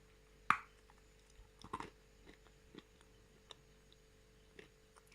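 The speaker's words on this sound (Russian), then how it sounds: "Сначала попробуем от серого кусочка откусить." A grey piece of Bashkir clay with burgundy specks, medium density, is bitten and chewed up close: one sharp crisp bite, then a few soft, quiet chewing ticks with barely any crunch, no voices.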